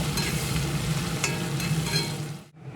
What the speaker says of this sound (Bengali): পেঁয়াজ কুচি ফোড়নের সঙ্গে খুব ভালোভাবে নেড়ে চেড়ে ভেজে হালকা সোনালি কালার করে নেব